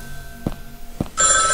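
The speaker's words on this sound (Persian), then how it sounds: "اه تلفن زنگ خورد." A telephone in a Turkish-made horror video game starts ringing with a loud electronic trill near the end, after a couple of dull knocks.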